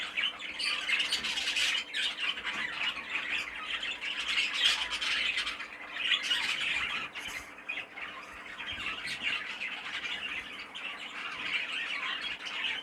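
A young show bird, one of a pair of siblings, squawks continuously at close range in harsh, raspy calls that rise and fall in intensity, with no talk over them.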